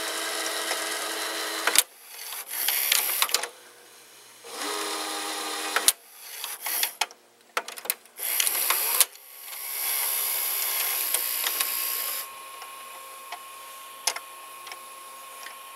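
A Magnavox VR8405SL01 top-loading VCR fast-forwards a tape. Its motor whirs loudly and close in long stretches broken by clicks and clunks, then settles into a steadier, fainter hum.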